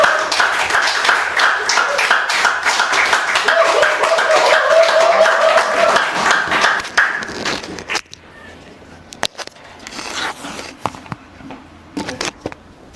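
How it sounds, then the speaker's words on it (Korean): Lecture audience clapping to welcome a speaker at a Korean evening talk, dense steady applause for about eight seconds with some talk mixed in, then thinning into scattered claps and quieter room noise. "박수로 환영해 주세요."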